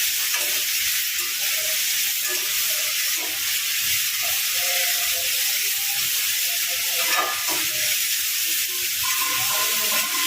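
Beaten eggs sizzling and crackling loudly in a hot pan while being stirred for fried rice, a steady close hiss with scraping stir sounds throughout and no talk.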